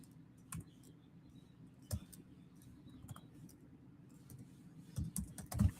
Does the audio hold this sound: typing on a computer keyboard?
yes